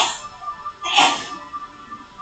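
A single short sneeze bursts out during a beginner yoga class, fairly close and moderately loud, over quiet room tone.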